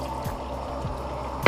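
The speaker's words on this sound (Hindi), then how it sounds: "हम इस टाइम पे आधा कप पानी डाल देंगे" Half a cup of water is poured into a pan of chicken korma masala, a steady, close liquid pour over a constant background hiss that ends with a short louder splash.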